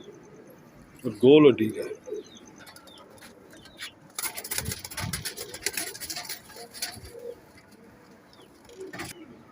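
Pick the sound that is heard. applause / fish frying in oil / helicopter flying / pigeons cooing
pigeons cooing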